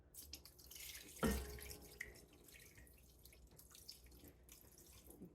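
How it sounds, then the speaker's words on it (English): Water is poured over spice powder in a home kitchen while cooking an Irish dish, a brief splashing burst of running liquid followed by softer trickling and dripping, fairly quiet and close, with no talking. "I'm going to pour the water over the spice powder"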